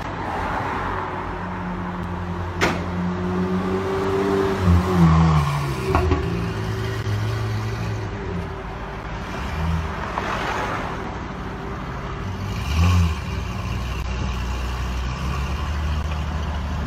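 A Ferrari sports car out on a drive, its engine a steady, loud drone from inside or near the car, rising in a few brief swells as it moves, with no voices.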